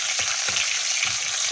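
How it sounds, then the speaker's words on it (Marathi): Green chillies fry in hot tempering oil for a yogurt kadhi, making a loud, steady close-up sizzle with soft rhythmic stirring underneath. "हिरव्या मिरच्या चांगल्या याच्यात तळून घ्यायच्या"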